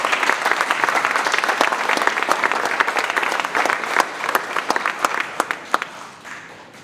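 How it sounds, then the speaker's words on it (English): Parents applaud at a school awards ceremony: dense, loud clapping from a full room that holds steady, then thins into scattered individual claps before fading. "Give yourselves a round of applause."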